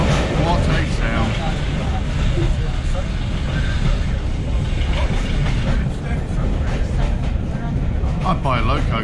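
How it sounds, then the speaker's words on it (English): A Class 33 Crompton diesel locomotive runs at a heritage railway diesel gala, its steady engine rumble and rail noise continuous throughout, heard amid crowd chatter and background voices. "You can hear that Crompton running."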